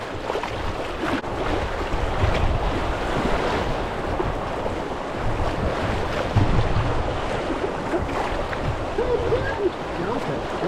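River rapids rush around a Sea Eagle Fast Track 385 inflatable kayak, a dense, continuous roar of churning water mixed with buffeting wind noise on the microphone, with occasional voices.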